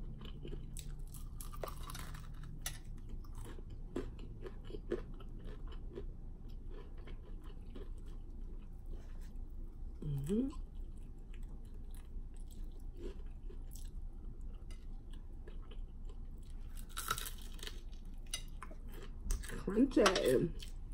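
Quiet, sporadic crunching bites and chewing of crispy fried chicken, with a few louder crunches near the end.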